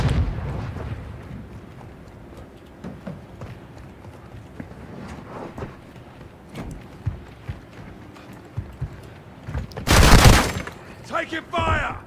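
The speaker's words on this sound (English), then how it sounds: "Throw in a stun grenade!" A stun grenade goes off in Call of Duty DMZ as one sharp, loud burst, after a stretch of scattered game noise, thuds and talk, with a few smaller crackles trailing behind it.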